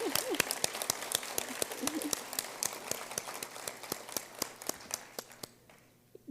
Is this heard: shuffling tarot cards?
no